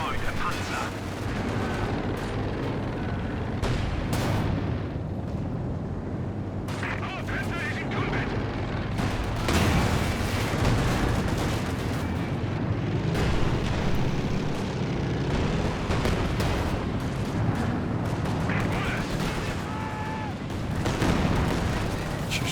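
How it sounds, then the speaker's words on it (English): Artillery barrage in the video game Company of Heroes 2: a continuous rumbling bed of shell blasts and gunfire with intermittent sharper impacts, dense and loud throughout, with a voice talking over it. "Barrage coming in on a pretty decent location."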